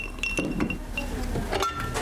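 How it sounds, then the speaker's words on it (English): A Bloody Mary with vodka, Tabasco, Worcestershire sauce and lemon juice is stirred gently in a glass, giving quick, bright clinks of a spoon against the glass in a close, quiet setting. "Just stir it"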